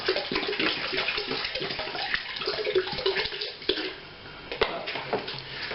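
Cold bottled water from the fridge pours and splashes steadily into a container, a continuous close, loud watery rush with brief gurgles and no talk.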